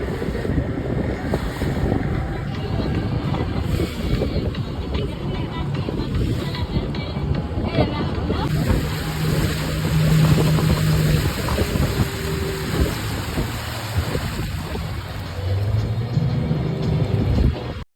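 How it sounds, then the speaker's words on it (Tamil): Sea waves slapping against a boat off Pondicherry, a continuous rough wash of water with heavy wind buffeting the microphone, loud and close throughout. "அலை எப்படி அடிக்குதுன்னு பாருங்கள்."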